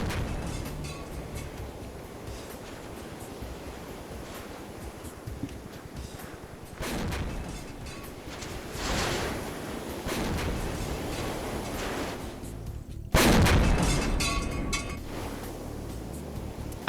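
Gunfire during a large Vietnam-era PvP match in Arma, scattered distant shots and booms over a steady background hum, ending with one loud close blast.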